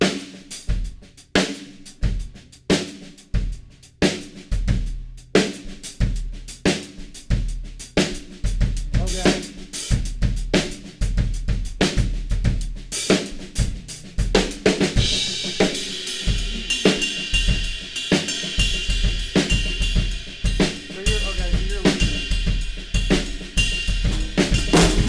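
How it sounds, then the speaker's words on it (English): A drum kit groove with the left hand playing snare and hi-hat: a steady rhythmic pattern of crisp hits, first sparse and punchy, then filling in with denser bright cymbal wash in the second half. "when I play my left hand on the snare on the hi hat"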